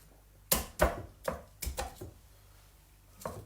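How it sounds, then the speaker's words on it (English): Flat of a kitchen knife struck sharply down onto a garlic clove to crush it, topped and tailed, on a board: several crisp close knocks, a few quick pairs and then a last single hit, with no speech. "we just pop the knife on top and just give it a sharp hit"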